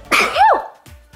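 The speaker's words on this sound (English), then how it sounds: "I'm gonna sneeze." A single sharp human sneeze bursts out loud and close, with a short airy tail, made in the middle of talk about caring for pet rabbits.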